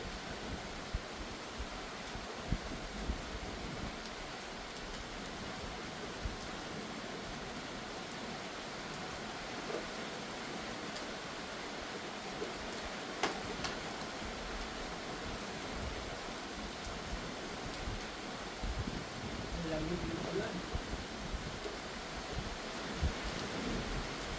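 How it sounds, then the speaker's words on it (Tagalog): Rain falls steadily at Barr Lake State Park in Colorado, a continuous soft hiss with occasional faint drips and taps and no one speaking. "Hindi pa tumitila ulan ah"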